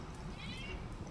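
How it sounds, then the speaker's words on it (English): A domestic cat gives a single short meow, faint against a low indoor background. "That's my cat."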